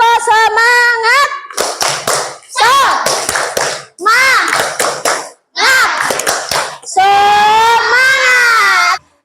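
Schoolchildren in a classroom perform a rhythmic 'tepuk semangat' clapping chant, bursts of sharp unison claps alternating with shouted chanted voices in a steady pattern, loud and close.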